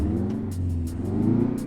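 A Mack R truck engine in American Truck Simulator, modeled on the Rubber Ducky rig, hums and revs steadily with a deep low drone, continuous and fairly loud with no talk.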